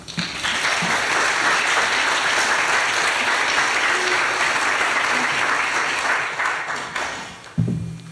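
Sustained, loud audience applause at a symposium on art collecting, welcoming two speakers, an even wash of clapping lasting several seconds before fading, followed by a voice starting to speak.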